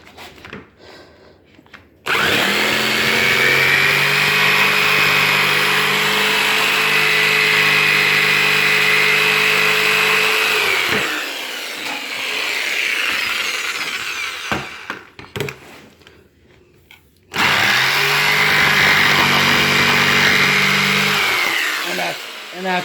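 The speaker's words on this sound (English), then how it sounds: "Now I could take my jigsaw complete my little corner cuts here." A jigsaw cuts corners in a kitchen countertop during installation, with two long, loud continuous runs of buzzing and a brief quieter pause between them, and no talk.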